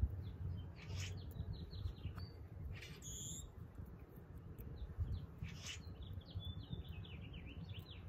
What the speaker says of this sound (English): Red-winged blackbirds are clearly not happy I'm outside right now. They're sassing quite a bit.